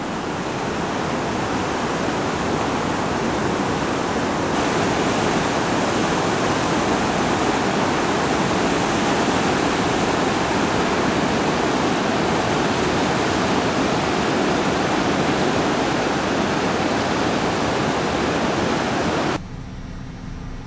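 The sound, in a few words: flood water rushing down a desert wash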